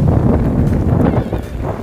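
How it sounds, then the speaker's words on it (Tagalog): Loud, gusty wind from a typhoon buffeting the microphone with low rumbling roar, continuous and close. "ang lakas ng hangin."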